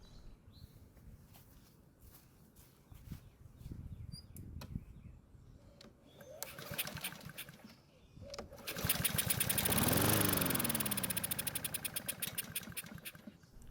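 A Honda lawn mower engine, long kept in storage and primed with fuel in the carburetor throat, cranks with a few pulls, then catches and runs loudly for a few seconds with a rapid rattling putter before dying.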